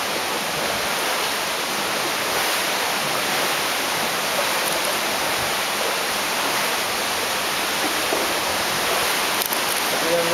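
Water rushes steadily through Martvili Canyon, a dense, unbroken roar close by with no clear breaks.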